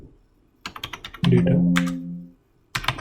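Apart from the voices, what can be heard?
typing a command on a computer keyboard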